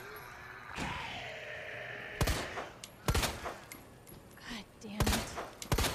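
Sharp, loud gunshots in the survival horror game Resident Evil 2 crack out singly at irregular intervals among thuds and other game effects, while a person curses in frustration.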